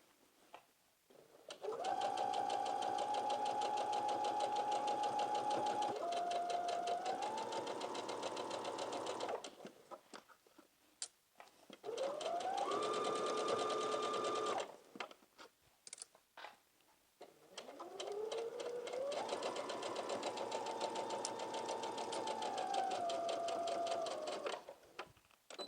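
A sewing machine stitches a skirt waistband around a curve in three separate bursts, each rising in speed and then easing off, with quiet gaps between them.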